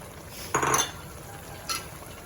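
Pork belly and long beans stir-fried in red curry paste in a pan, with two short bursts of sizzling and scraping against a quiet background.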